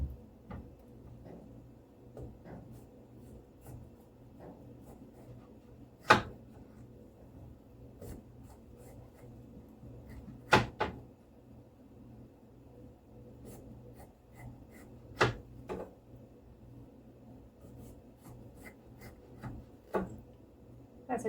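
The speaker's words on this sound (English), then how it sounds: "That's a new way I've learned how to cut green pepper from the bottom, and you just slice it down each one of those, the seams." A knife slices a green pepper along its seams on a cutting board, with faint rubbing cuts and several sharp knocks spaced through a long, quiet stretch.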